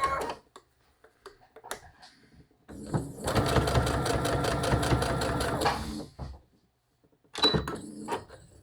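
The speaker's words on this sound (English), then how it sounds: "I'm just going to stitch it off on my machine" A sewing machine stitching strands of fabric for a woven rag rug runs in a steady fast whirring burst for about three seconds, framed by quiet handling noises before and after.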